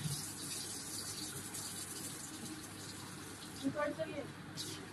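Tap water runs steadily into bottles being filled, a continuous close hiss with a few small knocks and splashes near the end.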